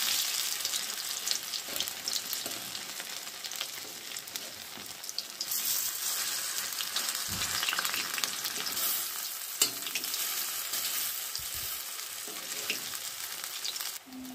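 Raw banana koftas frying in hot oil make a steady, close sizzle and crackle that carries on throughout, with occasional soft clinks and stirring noises and no speech.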